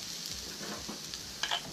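Chickpeas turning golden as they fry and sizzle in a pan, a soft, steady hiss with a few brief stirring scrapes near the end, heard alone without talk.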